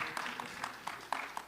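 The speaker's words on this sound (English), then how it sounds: "So, you can clap for that." Scattered, thin applause from a town hall audience gathered in a church on the Southeast Side, with distinct individual claps standing out over a quiet room.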